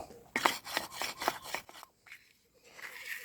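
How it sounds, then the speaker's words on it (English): A scoop scrapes out material in a quick series of close, rasping strokes that pause briefly, followed by softer scraping. "I'll scrape it out a bit further and see if I can expose it"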